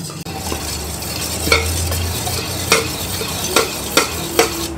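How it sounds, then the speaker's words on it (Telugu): A spoon stirs oil into yogurt in a bowl, a continuous wet mixing sound broken by several sharp clinks of the spoon against the bowl. "దీంట్లోనే పెరుగులోనే వేసేసి ఫుల్ కలిపేయడం."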